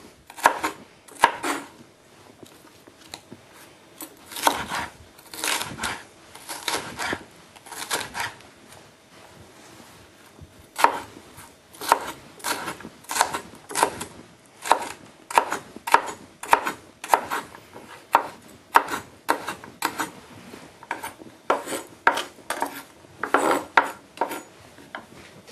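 A knife chops ingredients on a board while preparing chicken with coconut milk and black mushrooms, with quick, close, steady taps in bursts and short pauses, loud and clear with no talk.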